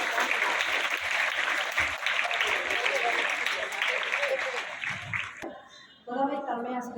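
Students applauding at a girls' school Republic Day celebration, sustained dense clapping from a large crowd that fades near the end before a voice starts speaking.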